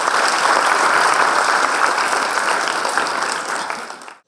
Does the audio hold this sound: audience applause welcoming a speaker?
yes